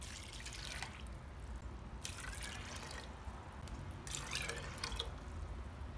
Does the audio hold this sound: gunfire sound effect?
no